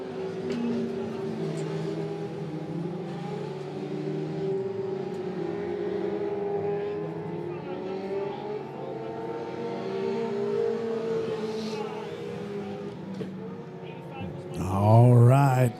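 Dirt track race cars roar around Monett Motor Speedway during a caution period, engines droning steadily throughout with a louder rev surging near the end, a commentator talking over the racing.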